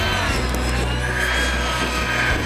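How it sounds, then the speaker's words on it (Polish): A high, buzzing rotor and small combustion engine whine of an aerobatic model helicopter flying inverted drones steadily and continuously, with slight shifts in pitch as it maneuvers. "Śmigłowiec w locie odwróconym, jest to śmigłowiec akrobacyjny."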